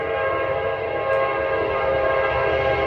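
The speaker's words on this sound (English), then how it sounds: "Hear that train? That train's a-coming, rolling on down that line." A train rolls by as a steady, continuous low rumble and hiss that holds at a moderate level without clear breaks, with no voices over it.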